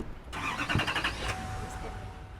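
A farm truck's engine starts during planting season, with a rapid cranking stutter that catches and settles into a steady idle close by, and faint voices underneath.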